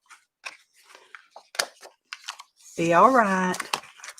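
Scissors trim paper in a craft session, several short dry snips and crunches spaced irregularly, with a brief spoken voice in between.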